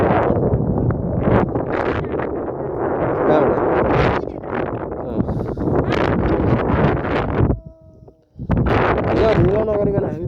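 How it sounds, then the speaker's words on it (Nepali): Strong wind roars and buffets the microphone on a hilltop near Pathivara temple, loud and continuous with a brief lull near the end, while a person talks under the gusts. "वरिपरि हावा चाहिँ होइन यस्तो मजाले चल्दो रहेछ"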